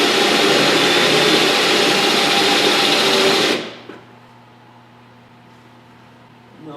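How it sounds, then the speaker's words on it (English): A spot weld cutter drills through the quarter panel of a 2003 Suburban in a long, loud, steady high-pitched whine that abruptly stops partway, leaving a low residual hum. "This is why I don't like using this style spot weld cutter."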